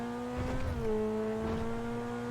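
A LaFerrari supercar in GTA 5 holds a steady, tonal engine drone that dips slightly in pitch partway through, close and even, with no voices.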